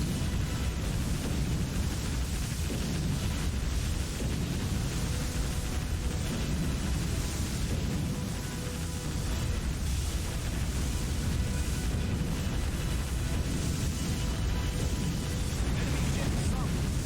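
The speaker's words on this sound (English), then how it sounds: "Now try out our new torpedoes." Torpedo blasts and booming explosions rumble continuously through a naval battle in the warship game Warship Gunner 2, a dense, loud low roar of hits with speech partly audible underneath.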